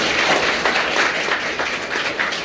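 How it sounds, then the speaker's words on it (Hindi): Audience clapping at a class 12 arts farewell at a tuition centre, a dense sustained round of applause from a gathered group, fairly loud and steady throughout. "जरा जोर से उनके लिए ताली बजाएं।"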